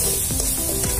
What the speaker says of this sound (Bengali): ক্যাপসিকাম, সব কিছু দিয়ে ভালো করে একটু ভেজে নেব।